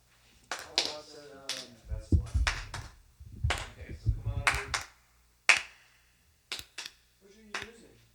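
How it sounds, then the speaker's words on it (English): People clap into microphones in a studio setting, giving sharp, isolated claps in short irregular bursts, close and dry, with people talking between and under them. "What are you clapping into?"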